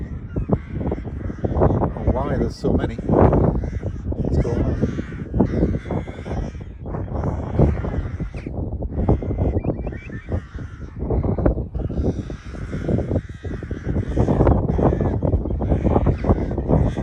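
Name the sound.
flock of crows cawing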